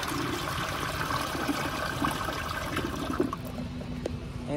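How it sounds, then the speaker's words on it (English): A Project Source Pro Flush toilet flushes grass: a continuous rushing, gurgling flow of water that tapers into a trickle and faint refill hiss, heard close and alone. "this is really the only stuff I have right now to flush it"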